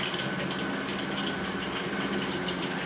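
Dahi bara batter of besan dropped into hot oil, frying with a steady, dense sizzle and bubbling that holds evenly throughout, close and fairly loud with no talk.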